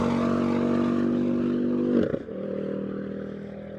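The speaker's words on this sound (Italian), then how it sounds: "sta per passare la Ford Focus RS pistolatissima" A tuned Ford Focus RS with a hybrid K16 turbo, around 500 hp, drones steadily nearby, then its note breaks off sharply with a quick whoosh as it passes, leaving a lower fading engine hum.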